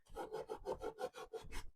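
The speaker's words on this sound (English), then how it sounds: "it's going to sand it a little bit" Dry wood being sanded by hand, a close, quiet rasping rub in a steady back-and-forth rhythm of about nine strokes.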